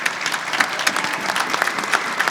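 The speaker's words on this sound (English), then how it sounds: "give him a round of applause" Audience applause at a jazz band concert, a dense steady patter of many hands clapping close by, sustained evenly throughout without talk.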